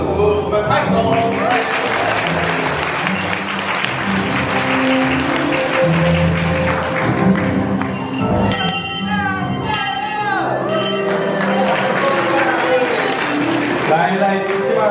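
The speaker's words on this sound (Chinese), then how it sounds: "我们拍手" An audience claps at a Presbyterian church Christmas event where Santa Claus hands out candy. The loud applause mixes with voices and music, and a sharper burst of clapping stands out near the middle.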